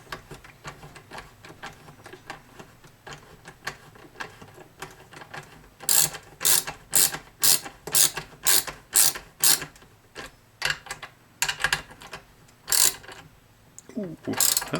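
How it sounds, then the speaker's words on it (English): A crescent wrench ratchets and clicks in a rapid, regular series of sharp metallic ticks as new tuner nuts are tightened on a Peavey Grind NTB-5 five-string bass, with quieter handling clicks before and after. "I'll come back with the crescent wrench"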